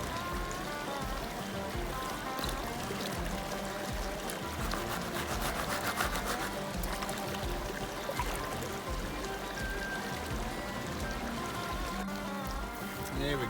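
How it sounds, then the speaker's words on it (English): Creek water flows strongly around a gold pan during panning, a continuous close babbling and splashing rush at steady volume. "Water flow is a bit strong."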